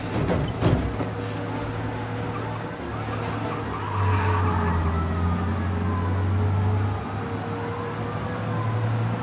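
A car engine roars steadily at speed in Mafia: Definitive Edition, with tire screeches and a faint siren-like wail in the background, loud and continuous throughout.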